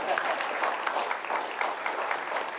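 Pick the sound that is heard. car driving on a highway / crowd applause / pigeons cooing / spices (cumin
crowd applause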